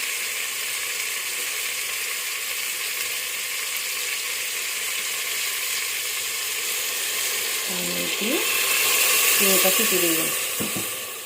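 Chicken and coconut curry sizzles and fries steadily in a pan after a splash of water is added, with a constant loud hiss and brief clinks of stirring near the end.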